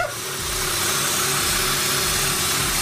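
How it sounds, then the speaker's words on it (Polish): A BMW E39 car engine running without oil idles close by with a steady, rough, vibrating rumble and no talking. "Bez oleju elegancko silnik chodzi."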